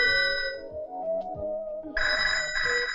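A telephone rings in a room, with repeated bright electronic trills that start steady, pause for a moment, then return louder and fuller near the end, with no voices.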